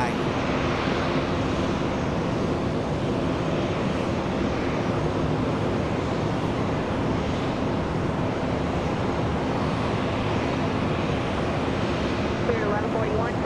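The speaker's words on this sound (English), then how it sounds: "It's a plane." An airplane taking off at FLL fills the scene with a loud, steady engine roar that holds unchanged throughout, a dense broadband rumble with no clear breaks.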